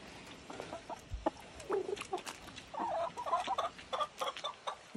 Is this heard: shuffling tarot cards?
no